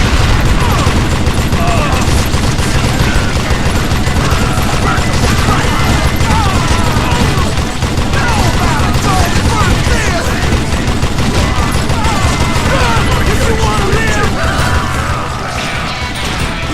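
Dense, continuous gunfire and mechanical clatter in a Call of Juarez Gunslinger shootout during a train robbery, loud and unbroken throughout, with a voice speaking over the shots.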